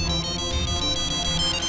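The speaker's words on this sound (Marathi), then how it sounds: "उषाताईचा फोन आहे." A phone ringtone plays loudly and steadily for an incoming call, a bright repeating electronic melody filling the moment with no voices over it.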